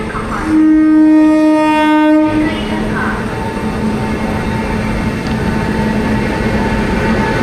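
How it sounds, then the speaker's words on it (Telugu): A train on the railway track sounds a loud, sustained horn blast for about two seconds, then rolls on with a steady, close rumble of wheels. "ఇక్కడ నుంచి ఇంకో ట్రైన్ వస్తుంది ట్రాక్ మీద."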